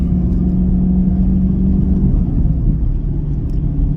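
A 2024 Camaro LT1 V8 idles while warming up, a loud, close, steady low rumble with a faint hum, holding even throughout with no voices.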